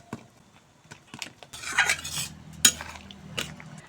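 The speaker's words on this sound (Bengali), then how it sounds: "দিয়ে দিচ্ছি ভেজে রাখা ছোলার ডালের বড়া" Fried chana dal fritters dropped into a simmering gravy, with light clinks of a ladle, a soft splash and a sharp metallic clank against the pot amid quiet bubbling.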